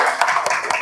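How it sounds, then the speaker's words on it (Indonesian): Short burst of classroom clapping for a student group in a primary school class, several hands tapping in an uneven, close patter for under a second. "Beri tepuk tangan buat kelompok 4."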